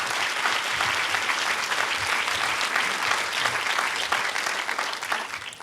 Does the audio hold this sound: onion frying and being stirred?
no